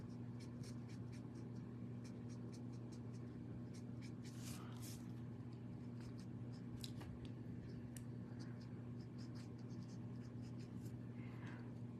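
Colored markers rubbed across a paper card, faint repeated scratchy strokes in uneven bursts over a steady low background hum, with no talking.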